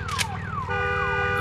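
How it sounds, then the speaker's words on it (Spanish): A vehicle alarm in the video game Days Gone wails loudly and nearby, sweeping down in pitch again and again. A steadier, layered tone joins partway through, and no one speaks over it. "Y esta cosa tiene una alarma, necesito desactivarlo porque creo que atrae a las cosas estas."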